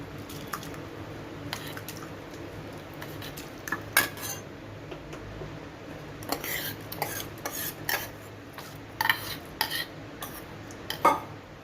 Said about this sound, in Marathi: आता मी तांदूळ टाकून घेत आहे